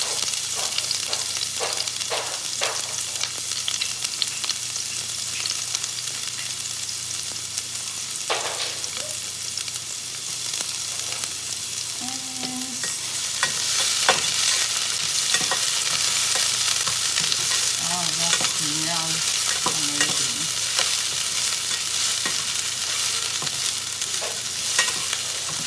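Chopped onions sizzle and hiss steadily in a hot pan for an omelette, with scraping stir strokes and clinks of the utensil against the pan, a loud continuous fry with no talking.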